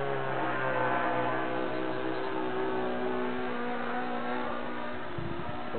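A motorcycle engine runs steadily, then revs and resonates, a loud continuous drone with strong tonal harmonics and a rougher burst near the end; no talking.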